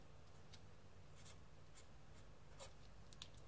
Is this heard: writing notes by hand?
yes